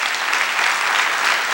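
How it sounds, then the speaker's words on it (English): Dense, steady applause from an audience at a Mannatech speech, filling the room evenly and loudly throughout. "Give him a round of applause."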